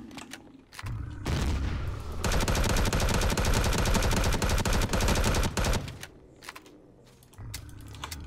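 Rapid sustained pulse rifle fire in the video game Empyrion Galactic Survival, a loud dense burst of repeated shots lasting several seconds, preceded and followed by scattered single shots and quieter game ambience.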